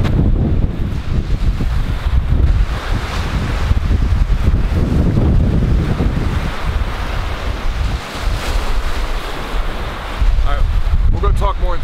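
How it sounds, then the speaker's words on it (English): Strong wind at the beach buffets the microphone in a loud, continuous roar, with surf rumbling underneath and brief gusts rising and falling throughout. "It's normally not this windy."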